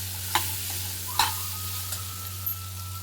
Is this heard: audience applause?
no